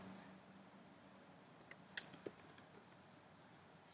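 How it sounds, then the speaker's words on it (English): A short run of keystrokes on a computer keyboard clicks quietly and nearby over a faint room hum, with a louder bump at the very end and no talking. "Then I will have to type it here, a new function, a new command."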